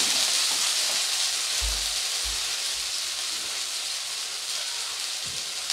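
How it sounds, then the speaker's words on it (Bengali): Mustard paste frying in oil in a home kitchen: a steady, even sizzling hiss throughout, with a few soft low thumps early on and no talk. "সর্ষে বাটাটা দিয়ে তেলে একটু সময় নিয়ে ভেজে নেব"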